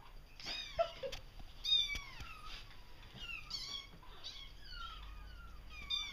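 A kitten meowing repeatedly, a run of short high-pitched cries at irregular intervals, fairly close but soft, with faint background noise.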